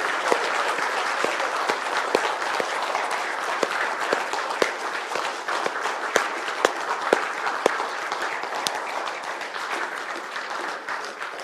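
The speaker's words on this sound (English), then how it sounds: "Can we cheer for these five folks that have now..." A Wesleyan church congregation at a family worship gathering claps loudly and steadily, with sharp individual claps popping out of the continuous applause for the whole stretch.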